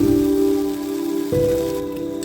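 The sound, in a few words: frying ground masala paste with cashew on low flame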